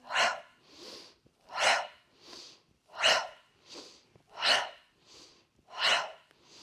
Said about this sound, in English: Maybe you want to do some rapid breathing.